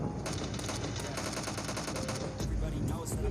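Rapid automatic gunfire in a PUBG Mobile Lite firefight, a dense rattling burst that runs steadily throughout, with faint voices mixed underneath.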